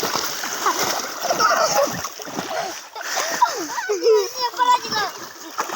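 Children splash and play in water in a village setting, a continuous busy sloshing and spattering close by, with kids talking and calling out throughout.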